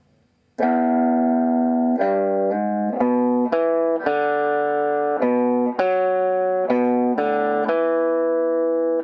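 A clean electric guitar plays a riff, single picked notes and short phrases, steady and close, with no voices.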